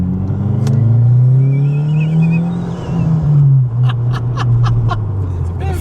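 The engine of a 2026 Subaru WRX with bolt-on modifications revs loudly on an all-wheel-drive dyno, a sustained droning climb that holds and then drops, followed by a few sharp clicks.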